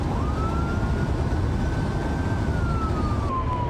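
An ambulance siren wails continuously from inside the vehicle as it drives down county roads, a single long rising and falling tone over loud road and engine rumble.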